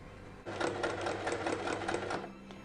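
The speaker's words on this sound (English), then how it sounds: "I'm using a straight stitch to start with, and then I'll go over it with a zigzag stitch" Sewing machine running a straight stitch along the edges of a fabric lavender heat pack, a close, steady mechanical whir with rapid needle clatter lasting about two seconds, then stopping.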